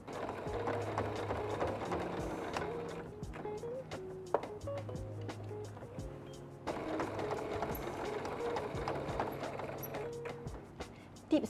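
Rhythmic mechanical whirring of a sewing machine stitching a batik tote bag strap in long runs, broken by a short pause and a few clicks partway through.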